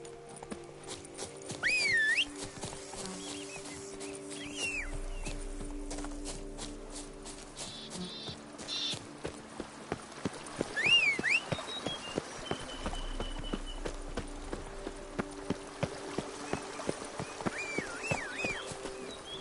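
Horse hooves clip-clopping in Witcher 3, a steady run of sharp, evenly spaced hoofbeats over a game soundscape with music and occasional whistle-like tones, moderately loud throughout.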